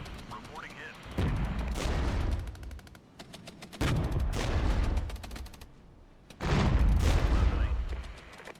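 Artillery fire mission in the war strategy game Regiments, with repeated heavy gunfire bursts and booming salvos in three loud waves, separated by brief quieter gaps, sounding close and dense.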